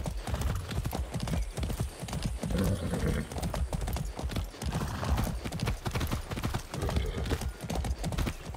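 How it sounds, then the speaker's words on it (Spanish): A horse gallops in the video game Far Cry 6, its hooves clip-clopping in a fast, continuous rhythm, close and loud, with occasional snorting and movement noise layered on top. "Vaya, un caballo mágico."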